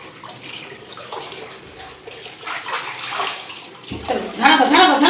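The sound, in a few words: water rinsing shampoo off a dog during bath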